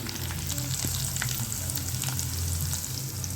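Onions sautéing in a pan for cauliflower masala, a dense continuous sizzle and frying crackle heard close with light stirring, no voices.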